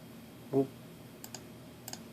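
A computer mouse double-clicks while drawing track in AnyRail layout software, two pairs of light, quick clicks heard faintly and close after a soft thump, with no talking.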